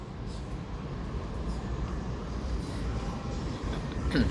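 A steady low rumble of an LRT light rail train passing overhead on an elevated track in Manila, broad and continuous with a faint metallic rattle, swelling slightly toward the end amid street ambience.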